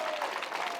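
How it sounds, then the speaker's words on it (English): A short burst of steady applause from a crowd, dense and even throughout. "So a big round of applause"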